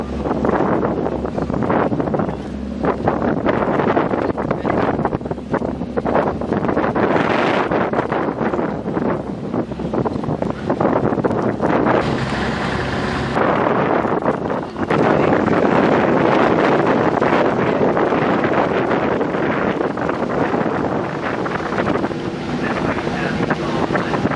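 Strong wind in Ireland roars and buffets the microphone continuously, with rumbling gusts rising and falling for the whole stretch.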